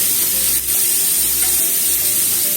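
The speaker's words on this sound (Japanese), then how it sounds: "卵も一緒に炒めますね" Mushrooms, tomato, bean sprouts and egg stir-fry in coconut oil with a loud, continuous sizzle, broken by a few dull scrapes of a spatula stirring the pan.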